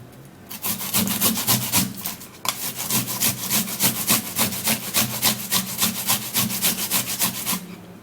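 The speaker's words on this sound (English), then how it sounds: "so I'm gonna be grating mine." A red onion is grated by hand, steady rhythmic rasping strokes repeating quickly and evenly up close after a short opening rub, loud and alone with no talking.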